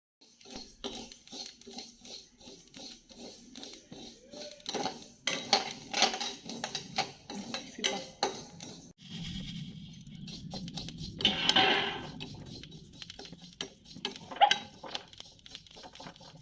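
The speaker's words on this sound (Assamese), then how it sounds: "এতিয়া প্ৰথমতে মই ভাজি লৈছোঁ এয়া জলকীয়াখিনি" Dry red chillies tossed and roasted in a pan for a pickle, with repeated metallic scraping and clinking of a spatula against the pan, uneven and close, with a louder rattling burst near the end.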